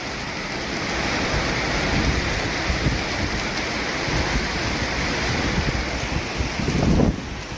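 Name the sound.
thunderstorm with rain and thunder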